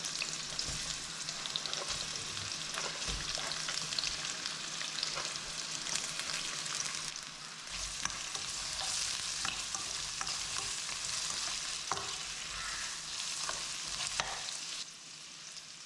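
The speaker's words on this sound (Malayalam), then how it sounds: "നമുക്ക് സവോള ലൈറ്റ് ബ്രൗൺ ആവുന്ന വരെ നമുക്ക് വഴറ്റിയെടുക്കാം" Sliced onions sauté in coconut oil in a hot pan until light brown for a spicy crab roast, giving a steady close sizzle broken by frequent scraping stirs, with no talking.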